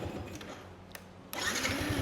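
A Yamaha Y16ZR motorcycle engine is started with its start button, a short crank at first and then the engine catching into a steady, fairly loud running sound after a brief quiet stretch.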